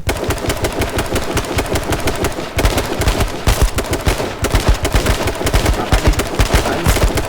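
Rapid automatic gunfire in the battle royale game H1Z1 King of the Kill, loud and close, with dense bursts of shots rattling almost continuously and a brief pause midway.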